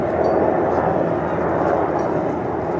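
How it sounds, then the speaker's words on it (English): Five Black Hawk helicopters flying in trail formation produce a loud, steady, unbroken engine and rotor drone overhead, with no distinct pulses. "Five Blackhawks flying around in a trail formation"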